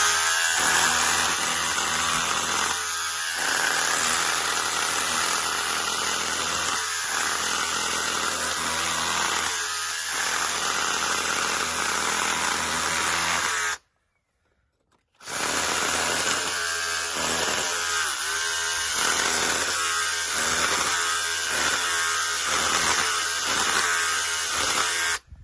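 An SDS drill fitted with a scutch bit chisels into a block, giving a loud, harsh, continuous hammering rattle up close that runs for about thirteen seconds, stops briefly, then resumes with pulsing bursts as the bit bites.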